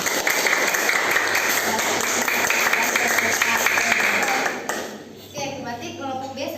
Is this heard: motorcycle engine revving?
no